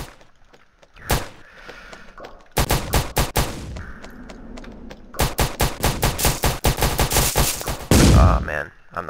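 Rapid bursts of gunfire from the shooting video game Strobe, loud and close, coming in dense volleys with short pauses between, then a heavy blast near the end.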